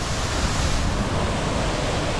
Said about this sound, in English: The waterfalls are still going.